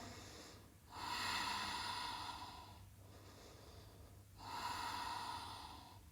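Slow, audible breaths during a core-focused yoga flow: long inhales and exhales close to the microphone, quiet and steady with brief pauses between them.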